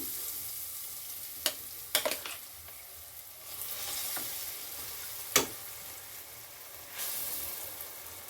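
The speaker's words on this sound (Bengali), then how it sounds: "ডালটা কন্টিনিউ নাড়িয়ে শুকনো শুকনো করে নিতে হবে" Ground lentil paste fries in a pan for Bengali dhokar dalna, a soft steady sizzle broken by sharp scrapes and clinks as a spoon stirs it now and then. The sound is close and moderately quiet, with no talking.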